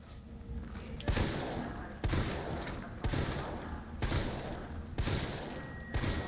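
A powerful new weapon fires in Resident Evil 3, six heavy booming shots at roughly one-second intervals, each with a broad crack and a decaying tail, loud and close over low game ambience.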